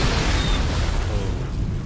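Seeker missiles detonate in a video game battle, a dense, continuous roar of overlapping explosions and rumbling blasts that fills the whole stretch at high volume, with no clear gaps and no speech.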